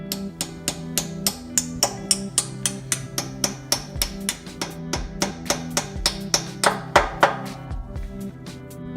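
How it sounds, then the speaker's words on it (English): A hammer repeatedly taps the outer hydraulic piston of an electric log splitter into place, producing a steady run of sharp metallic knocks, roughly two or three per second, close and clear without speech. "hold it in place and tap it in with a hammer"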